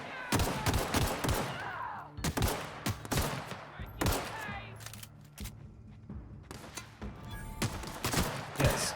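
Rapid bursts of gunfire from a weapon in the video game The Outer Worlds, clustered volleys and single shots crowding the whole stretch, loud and close with brief gaps between them.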